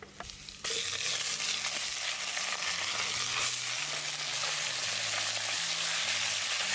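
Garlic dropped into hot oil in a pan over an outdoor fire erupts into a loud, steady sizzle after a brief quieter moment, a continuous close frying hiss with no talk.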